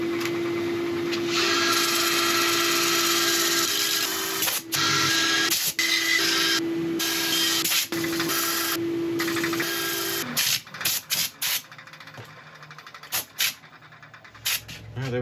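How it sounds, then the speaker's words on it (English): A wooden bowl being sanded on a wood lathe, a steady whirring hum of the spinning lathe with scratchy abrasive noise, broken by brief pauses before stopping into intermittent short bursts near the end. "I shall set up for sanding as usual."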